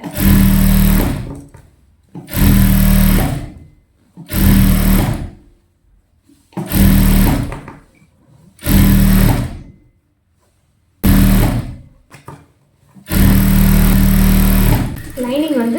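A sewing machine stitches the folded hem of a full-circle gown made from an old saree, running in seven loud, close bursts of about a second each with short quiet pauses between them.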